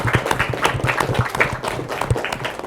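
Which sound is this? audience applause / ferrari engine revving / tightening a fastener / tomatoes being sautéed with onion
audience applause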